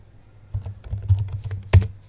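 Keys clack on a computer keyboard at close range, a short run of taps ending in a firmer keystroke, with no voices.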